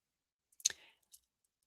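A computer mouse clicks once, sharply, in a quiet room, followed a moment later by a softer second click.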